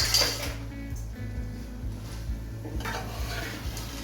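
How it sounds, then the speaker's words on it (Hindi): A spoon scrapes and clinks around a pan as potato curry is stirred and fried, soft sizzling underneath and irregular metallic taps close by, fairly quiet with a low steady hum. "तो अच्छी तरह हिला लेते हैं।"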